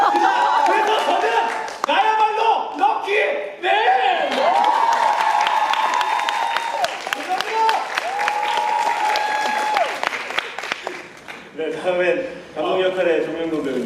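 Theatre audience applauding at a curtain-call stage greeting after the final performance of the play Fences, sustained clapping throughout with prominent voices speaking over it.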